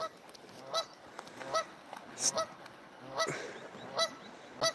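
Geese honk repeatedly at a moderate distance, several birds calling in uneven bursts over faint outdoor background noise.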